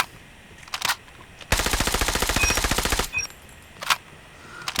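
OTS 9 submachine gun fired in a video game: a sustained, rapid full-auto burst of loud, evenly spaced shots lasting over a second, bracketed by a few isolated single reports before and after, with no talking.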